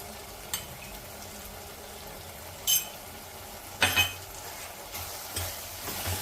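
Pav bhaji masala spices and green chillies sautéing in a pan, a steady low sizzle with a few sharp scraping stirs of a spoon against the metal, close and alone without talk.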